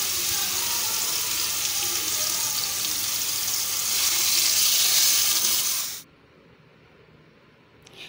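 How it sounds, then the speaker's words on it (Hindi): Marinated chicken fries in hot oil in a kadai over medium-high flame, a loud, steady sizzling hiss that swells before cutting off abruptly into near silence. "फ्लेम को हम मीडियम से हाई करके चिकन डाल देंगे और फिर इसे अच्छी तरीके से तेल के अंदर हम भून लेंगे।"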